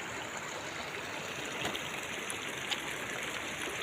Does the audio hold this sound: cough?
no